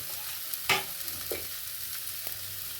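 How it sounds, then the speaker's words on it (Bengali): Bathua greens go into a pan of fried brinjal, giving a sharp hiss and then a few scraping stirs over a soft background sizzle, with no talk. "এবার আমি শাকগুলো এর মধ্যে দিয়ে দিচ্ছি"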